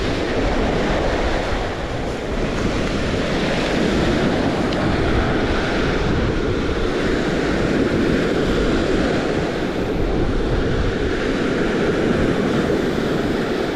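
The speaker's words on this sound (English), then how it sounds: "The wind and the waves, man, this is just the place to be." Wind and waves on a Lake Erie beach in summer, a steady broadband roar of surf with gusting wind buffeting the microphone, loud and continuous with no talking.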